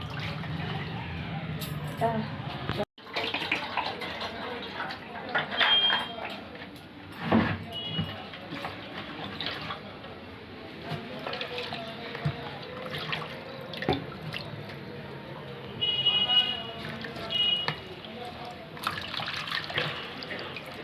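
Tap water runs steadily into a sink as items are rinsed one by one, with splashes, clatters and drips, while people talk nearby throughout.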